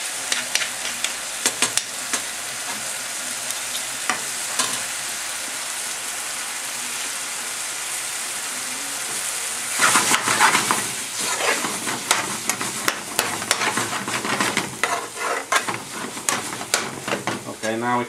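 Lamb balti with mango chutney sizzling and crackling in a hot pan, a steady fry punctuated by stirring scrapes that grow louder and busier partway through.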